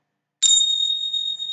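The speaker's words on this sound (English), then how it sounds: "known by other means as Tibetan bells" Tingsha, small Tibetan bells, struck once with a bright metallic attack, then two clear high ringing tones sustain evenly and alone, barely fading over more than a second.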